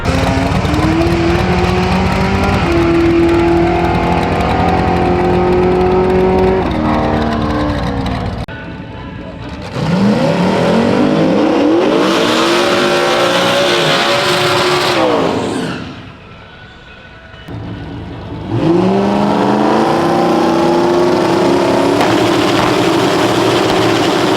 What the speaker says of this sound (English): So he's supposed to be hot lapping it around, looping it back through.